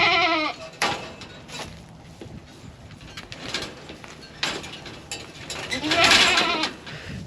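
A goat with her head stuck through a metal cattle panel on a homestead goat farm, bleating several times in short calls, with metallic rattling and clanking of the panel between cries, fairly close.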